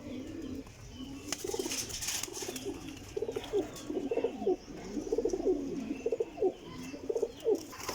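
Golden pigeons coo in repeated soft, rounded phrases at close range, a few overlapping calls in a calm rhythm over a quiet background.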